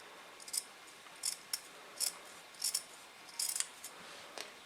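Scissors snip along fabric edges a few millimetres from the border, a quiet series of about eight short crisp cuts spaced irregularly, close by and alone.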